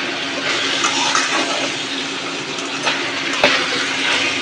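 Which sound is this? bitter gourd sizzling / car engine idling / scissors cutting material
bitter gourd sizzling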